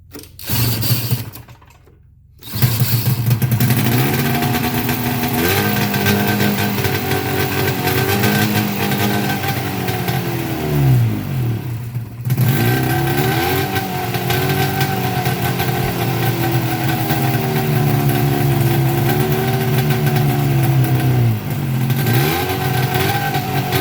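A 1972 Ski-Doo TNT snowmobile engine runs loud and near, its raspy two-stroke note revving up and down repeatedly after a short pause at the start, with a brief dip midway.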